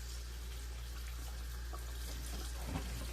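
Tap water running steadily over onions and bell peppers in a sink, a soft continuous splash and trickle with a low hum beneath.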